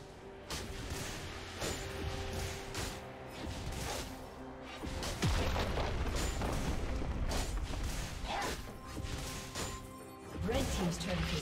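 A heavy crash and booming impact as a turret is destroyed in League of Legends, sitting amid ongoing game clashes, whooshes and thuds, with a voice talking over the action.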